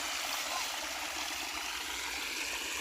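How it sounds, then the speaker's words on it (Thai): Water rushes steadily over a rural concrete overflow weir by the rice-field dikes, a continuous broadband roar that stays loud and even from start to finish, with no distinct splashes standing out. "อันนี้ฝายฝายน้ำล้นนะครับฝายน้ำล้นจริง ๆ นี่"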